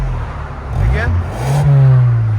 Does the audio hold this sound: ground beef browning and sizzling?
no